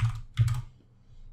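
Quick keystrokes on a computer keyboard, two close clattering bursts of clicks in the opening half-second followed by quiet, with no talking.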